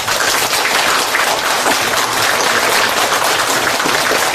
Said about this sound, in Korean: 자, 수고하신 분들 박수 합시다.